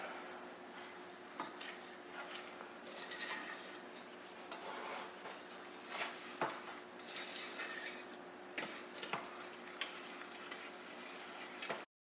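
A spoon stirs sugar into strawberry tree jelly mixture in a pot, giving repeated scraping and clinking of metal against the pot in an uneven rhythm over a steady low hum, close and without talk.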